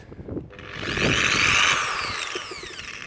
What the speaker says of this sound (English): Let's grind.